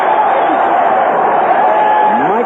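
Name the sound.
crowd rising and cheering in the Astrodome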